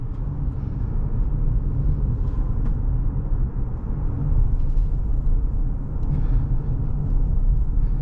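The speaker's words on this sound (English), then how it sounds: "This is really fun to drive for being the base Ioniq 5." A 2025 Hyundai Ioniq 5 SE AWD electric car driving on the road gives a loud, steady low rumble of tire and road noise with no engine sound and no talking.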